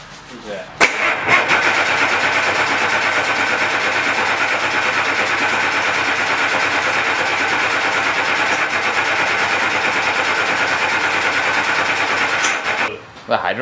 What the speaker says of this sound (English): test firing this thing to see how it's going to run with that dozer pump with the bus injectors.